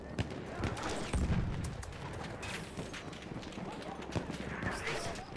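Battlefield 1 gameplay on the downed Zeppelin map, with rapid bursts of in-game gunfire and scattered single shots under a busy battle din, with players' voices breaking in over the action.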